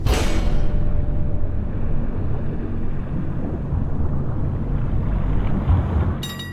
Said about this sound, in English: Activate the reversing engines.